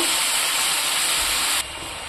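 Chicken frying in a pan with turmeric, cumin, chilli, onion, garam masala and potatoes for a local chicken curry, a steady loud sizzle and hiss that drops slightly in level near the end, with no talking.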